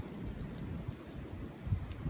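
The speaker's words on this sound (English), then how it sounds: "It is windy." Wind howls through a snowy New York–New Jersey blizzard in 2021, heard as a low, steady, faint rumble that buffets the microphone.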